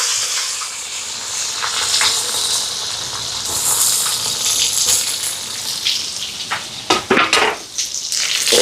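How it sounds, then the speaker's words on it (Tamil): Onion, curry leaves and green chili fry in hot coconut oil in a pan, giving a steady close sizzle and hiss with a few sharper crackles and stirring scrapes near the end. "இப்போ சட்டி சூடாயிட்டு எண்ணெய் சேர்க்குறேன். தேங்காய் எண்ணெய், கருவேப்பிலை, ரம்பையில், பச்சை மிளகாய்,"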